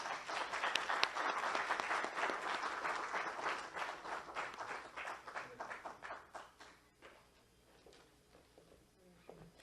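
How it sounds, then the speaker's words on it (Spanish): A seated audience at a democracy lecture event claps warmly for a visiting political scientist, loud at first, then thinning out and fading into scattered claps and shuffling. "Un fuerte aplauso."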